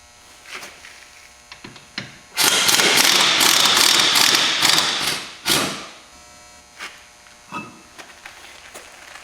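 Ratchet wrench tightening wheel lug nuts on an older Polaris Ranger 500 fitted with Ranger XP 900 rims, a dense burst of rapid clicking for about three seconds, then a few short separate clicks close by.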